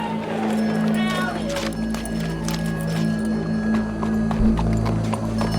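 Hooves clip-clop steadily from a horse in Red Dead Redemption 2, sounding close and rhythmic. A low hum and game ambience sit beneath it, with some faint vocal sounds.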